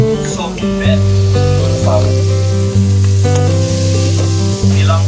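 Carrots frying in a pan with fried hotdog, a steady close sizzle that continues throughout under loud sustained music.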